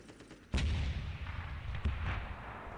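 Artillery fire in Warhammer 40,000: Dawn of War, a heavy booming blast that erupts suddenly and rolls on with a sustained low rumble, a second impact landing later amid ongoing battle noise, loud and close.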